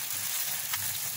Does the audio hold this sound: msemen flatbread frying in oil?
yes